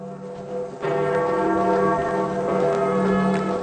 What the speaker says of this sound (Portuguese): Temos o badalar dos sinos.